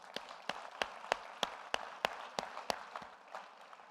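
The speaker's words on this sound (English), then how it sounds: "Please give another round of applause to all of our speakers." Applause from a conference plenary audience: regular, evenly spaced sharp claps stand out over a thin, spread-out patter, moderately faint and fading toward the end, with no voices.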